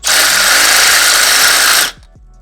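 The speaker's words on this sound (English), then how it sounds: "I'm gonna drill a little bit more" A power drill whines loudly and steadily into the exhaust of a 2010 Honda Civic 8th generation for nearly two seconds, then cuts off abruptly, leaving quiet background.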